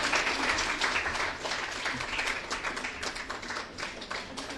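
Sustained audience applause fills a hall at a scholarship distribution and felicitation ceremony as a guest is welcomed, a dense steady clapping that continues without pause for several seconds.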